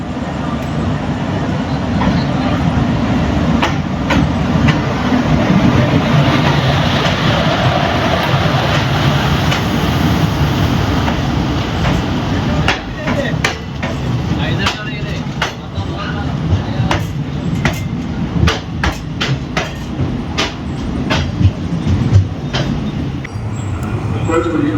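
The Chennai to Thiruvananthapuram Superfast Express runs along the track, a loud, continuous rumble heard from inside with rattling and repeated clicks of wheels on rail joints building in the latter half.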